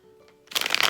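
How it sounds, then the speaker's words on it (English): A deck of cards is shuffled in a quick riffle, a short loud flurry of crisp flapping that starts abruptly after a quiet moment, close up and with no talk. "I'm going to reshuffle these cards real quick"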